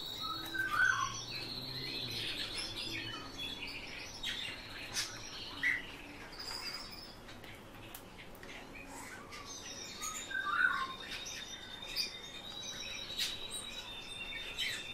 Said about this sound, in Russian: Ты очень жадный дрозд.